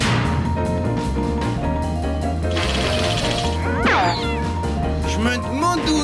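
A cartoon cat meows in a long, wavering, exaggerated cry over busy animated-comedy music and sound effects, loud and up front, with a shorter meow following.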